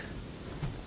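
Steady rain falls in the survival video game Aska, a brief, even wash of hiss with no voices.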